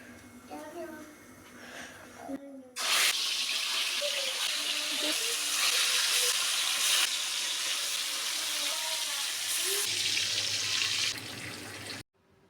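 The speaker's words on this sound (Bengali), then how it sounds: "একে একে আমি মাছগুলো তেলে দিয়ে দিচ্ছি" Salt-and-turmeric-rubbed fish pieces are slipped into hot oil in a wok. A sudden loud, broad frying hiss starts and holds steady for several seconds, with a voice talking before and over it.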